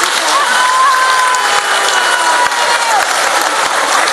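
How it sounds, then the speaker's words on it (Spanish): A crowd at a public gathering in Mexico applauds the nation's public servants, producing a loud, unbroken roar of clapping that holds evenly for the whole stretch, with crowd noise blended in. "pido un aplauso para ellos y para ellas"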